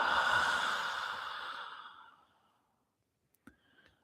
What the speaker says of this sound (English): a full exhale